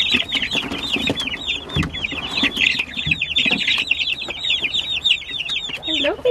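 Lavender Orpington chicks cheeping in a new temporary home, a dense, continuous chorus of high peeps close by, with light rustling and a brief voice near the end.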